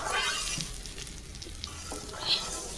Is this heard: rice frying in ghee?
yes